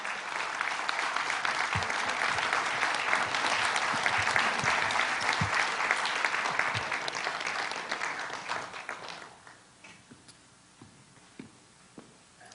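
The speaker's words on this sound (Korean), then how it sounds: "오늘의 강사를 뜨거운 박수로 여러분이 청해 주시기를 부탁드립니다" A lecture audience at a court education program welcomes the speaker with loud, sustained applause that runs for about nine seconds, then thins to a few scattered claps and shuffling sounds.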